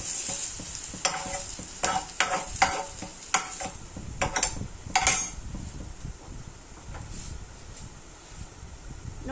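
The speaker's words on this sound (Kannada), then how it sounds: "ಈರುಳ್ಳಿ ಮೆಣಸಿನ್ಕಾಯಿ ಹೀರೆಕಾಯಿ ಚೆಂದ ಫ್ರೈ ಮಾಡಿ" Onion, green chili and ridge gourd fry in a pan, a soft continuous sizzle broken by a series of sharp spatula scrapes and clinks against the metal, then settling into quieter frying.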